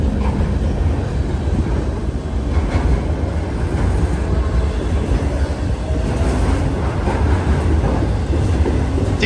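A fast freight train hauled by four locomotives, two leading and two distributed power units, roars past close by in a loud, continuous rumble of wheels and cars with no letup.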